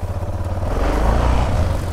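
A motorcycle engine rumbles close by, a deep steady growl that swells slightly toward the middle before easing back.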